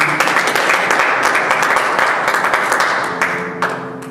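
A church congregation applauds steadily, dense clapping filling the space at a loud, even level before tapering slightly near the end.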